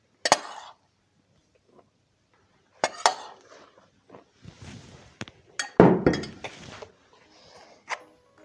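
Metal spoon scraping and clinking against a bowl while flour is stirred into cinnamon roll dough, a few scattered knocks and clatters, close by, with quiet pauses between bursts.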